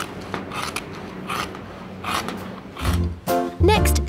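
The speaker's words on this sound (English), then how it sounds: "Listen to the sound of the scissors." Scissors cut through a PVC sheet for a soft play floor pad, making a series of close rasping, scraping snips that grow louder and sharper toward the end, with no talking.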